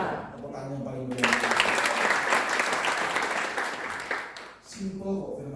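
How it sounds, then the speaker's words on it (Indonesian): A church congregation at GBI Bethany Poris Garden breaks into loud, dense applause that swells for about three seconds and then fades, with voices or music audible before and after it. "Tepuk tangan yang paling meriah."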